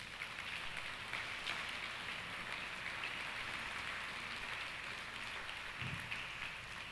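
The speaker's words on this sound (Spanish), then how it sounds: "Dale un fuerte aplauso al Señor." Church congregation clapping together, a dense steady wash of applause that holds evenly all the way through.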